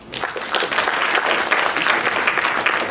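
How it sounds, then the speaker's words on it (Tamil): Audience applause at a CD launch event in Singapore, a dense, steady clapping from a sizable crowd sustained for about three seconds without voices. "பலத்த கைத்தட்டல் வழங்குவோம்"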